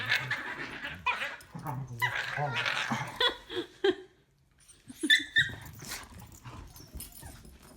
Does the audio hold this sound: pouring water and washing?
no